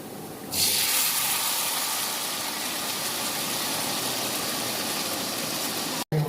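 A loud, steady sizzle erupts as meat hits hot oil with browned fried onions, then keeps hissing evenly with a faint crackle underneath.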